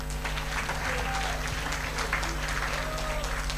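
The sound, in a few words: audience clapping at medical camp ceremony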